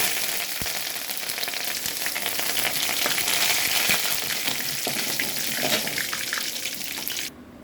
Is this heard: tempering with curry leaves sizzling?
yes